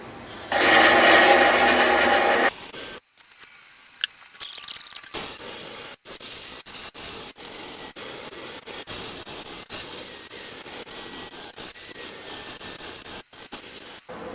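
A belt sander grinds down a weld on a thin sheet metal repair. It makes a loud, steady, rushing hiss that runs for long stretches, broken by a few short pauses, with no voices.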